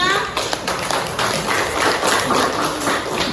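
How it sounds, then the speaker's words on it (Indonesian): A class of students claps together in a steady patter of applause, with voices chattering underneath. "Beri tepuk tangan dulu dong buat kelompok 5."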